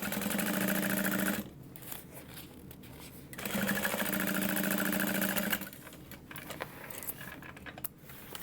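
A sewing machine stitches across the bottom of a fabric bag in two steady, buzzing runs separated by a pause with faint handling clatter, close and moderately loud.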